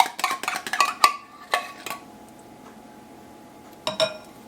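A metal spoon clinks and scrapes against a can while digging out condensed cheddar cheese soup: a cluster of sharp clinks early on, a few more scrapes, a pause, then a final pair of taps, all close and clear.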